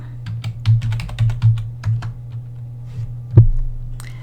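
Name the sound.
typing login credentials on a computer keyboard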